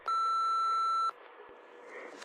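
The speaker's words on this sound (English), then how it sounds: "Please leave your message after the tone." A voicemail tone sounds as one loud, pure electronic beep lasting about a second, followed by quiet line hiss and faint handling noise.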